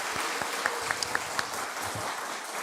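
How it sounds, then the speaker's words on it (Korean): Applause from a congregation at a Korean church's Wednesday worship service, a fairly faint, steady patter of clapping with a few sharper individual claps standing out over it. "박수하겠습니다"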